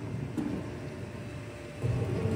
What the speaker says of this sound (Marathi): कुठेतरी वीज पडली वाटतं